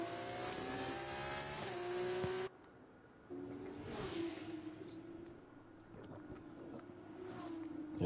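Turbocharged race car engines in an F2 race at Portugal, revving loudly and close, cutting off abruptly on a shift or lift, then building again with rising pitch and faint turbo whistle over wind noise.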